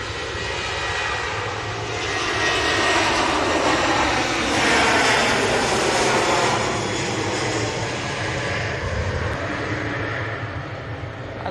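TUI Boeing 737 jet taking off, its engine roar building broadband and steady, swelling to a loud peak midway, then slowly easing off as the aircraft climbs away.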